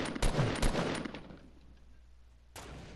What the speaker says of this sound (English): I just heard a snipe shot